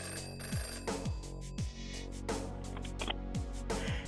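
A telephone rings in a visual novel game, repeating bell trills in a steady rhythm over a soft background music bed, with no talking.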